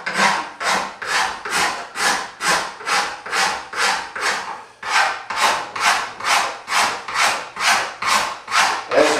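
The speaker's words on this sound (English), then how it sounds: "Start rasping more." Steady back-and-forth rasping of a wooden self bow limb during tillering, about two strokes per second, close and loud with a short pause midway, no talking.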